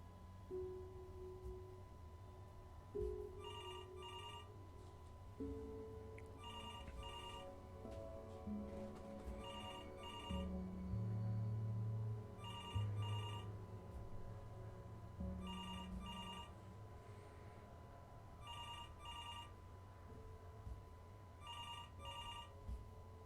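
A telephone rings repeatedly in the Before Your Eyes video game, paired trilling bursts at a steady interval of about three seconds, faint and somewhat distant over soft sustained musical tones, with no talk.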